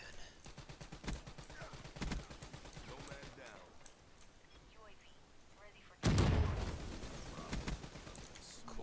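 Gunfire in the video game Call of Duty: Black Ops 3 pops in evenly spaced single shots, then a louder burst of rapid fire and a blast near the end, with voices underneath.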